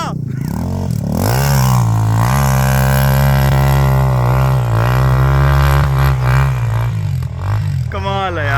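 A dirt bike engine revs near and loud, holding a steady buzzing drone that rises and falls in pitch, with a sharp rev climbing at the start and again near the end.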